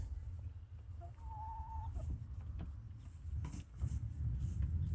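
Chickens in a straw-bedded coop give soft, intermittent clucks and one short drawn-out call over a low background rumble, fairly close with no talking.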